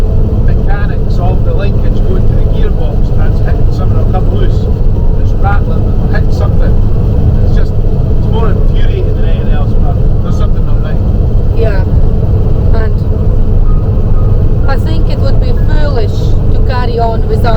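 Self-built 4x4 expedition camper truck driving in sixth gear, its engine giving a loud, constant low drone with road rumble filling the cab, while someone talks over it throughout.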